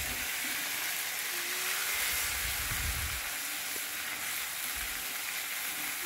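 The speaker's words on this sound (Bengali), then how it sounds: "আদা বাটার পেস্টটা এবার দিয়ে দেব, দিয়ে একটু নাড়াচাড়া করে নেব" Ginger paste fries in a pan with a faint, steady sizzle and low stirring scrapes, no voices.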